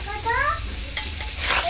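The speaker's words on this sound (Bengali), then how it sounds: "এরকমভাবে হালকা করে নাড়াচাড়া করে নেবো, আলুটাকে একটু সুন্দর করে ভেজে নেব" Potatoes with salt and turmeric fry in a pan and get stirred, a crackling sizzle with spatula scrapes, while a cat's meow rises briefly near the start.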